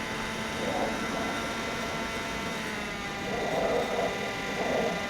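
A WLToys F959 Sky King RC plane drones overhead with a steady jet-like whine and hum, its pitch swelling slightly as it passes, mid-distance and continuous.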